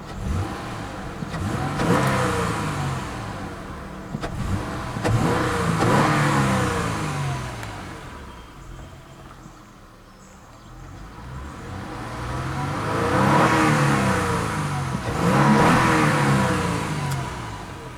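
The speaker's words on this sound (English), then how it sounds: "I'll give it a few revs" A 2000 Acura TL with a VTEC engine is revved while parked, rising in two loud bursts that climb and fall back, with a quieter idle lull between them; no one speaks.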